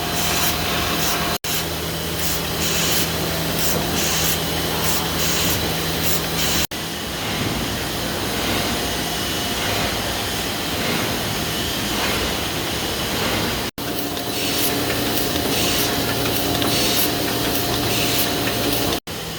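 A sheet-fed machine runs printing sheets for magnetic fragrance boxes at speed, a loud, dense mechanical roar and hiss that carries on steadily, broken by brief sharp cuts.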